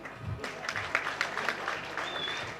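An audience claps at a press meet, a brief burst of scattered applause with individual hand claps audible, moderately faint and a little distant, with a voice faintly underneath.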